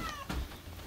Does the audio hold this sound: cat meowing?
yes